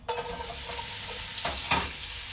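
Onions hit a hot pan with a bright sizzle that keeps frying steadily, with a couple of brief stirring scrapes near the end and no voices.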